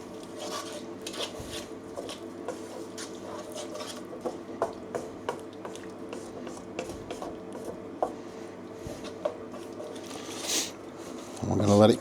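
A spoon scrapes and stirs a brown-sugar kung pao pork sauce in a bowl or pan, soft rhythmic rubbing strokes close by, with a louder clatter at the end.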